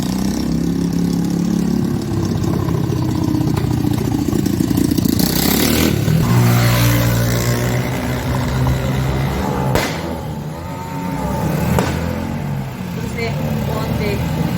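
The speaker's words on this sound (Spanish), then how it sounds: "Donde escucha ella pasar las motos y escucha el estruendo que llevan" Loud motorcycles rev and roar past in a street in Aguilares, north of San Salvador, with engine noise swelling and fading across the stretch as several bikes go by, alongside background voices.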